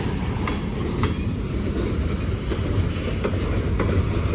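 Norfolk Southern eastbound freight train with steel coil cars and gondolas rolling past, a loud rumbling roar with regular clickety-clack wheel beats over rail joints, close by.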